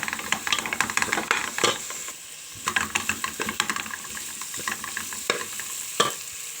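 Tripe frying in a pan with hot pepper is stirred, a steady sizzle broken by repeated scraping, clattering strokes of the spoon, close and fairly loud with no talking.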